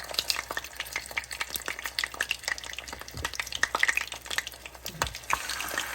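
Fish frying in hot oil, the first step of a Visayan vegetable soup, giving a crackly, popping sizzle with dense irregular spits, close and fairly loud, without voices.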